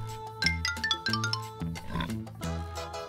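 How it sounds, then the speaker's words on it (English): A cartoon-style pig oinks in a few quick, close grunts mixed with short tuned chime notes. "Pig."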